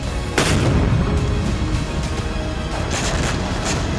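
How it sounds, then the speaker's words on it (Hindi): Mortar fire by Hamas fighters in Gaza comes as a sharp loud boom near the start, followed by a dense rumbling wash. A few more muffled thuds land later against steady background noise, with no voices. "तस्वीरों में दिख रहा है कि हमास के लड़ाके आम लोगों के कपड़ों में और छिपकर मोर्टार दाग रहे हैं"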